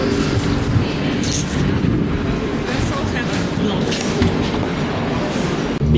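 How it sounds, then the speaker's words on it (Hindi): A train pulls into a station platform in Hamburg with a loud, steady rumble and rolling rail noise throughout, close by, with a voice speaking faintly underneath. "जब ये कहते हैं कि ट्रेन 1 मिनट में आ जाएगी, तो यहाँ पे ट्रेन 1 मिनट में आ जाती है।"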